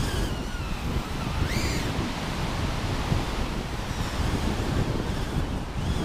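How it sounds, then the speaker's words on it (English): A strong 30 mph wind blows across an open outdoor field, roaring steadily as broadband buffeting on the microphone. A small RC aircraft whines faintly through the gusts. "Come at me, wind."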